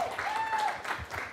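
An audience applauding at a talk on litigation against a Trump gender order, a steady patter of clapping mixed with a brief whistle-like tone, moderately loud throughout.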